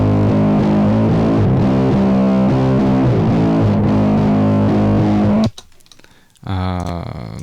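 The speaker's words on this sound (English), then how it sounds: "I put the same distortion pedal on it with different settings." Electric guitar played through a distortion pedal for a raw tone, a thick fuzzy sustained chord pattern that cuts out abruptly, leaving a brief gap before a buzzing distorted phrase resumes.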